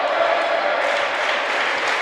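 Crowd noise from spectators at a college volleyball match between Murray State and Jacksonville State, a steady, loud broad roar of cheering with no break across the whole moment.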